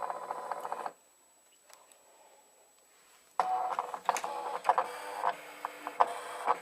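A Silhouette Portrait cutting machine at work, giving off soft mechanical whirring and clicking bursts with sharp ticks, near and fairly quiet, after a short near-silent pause.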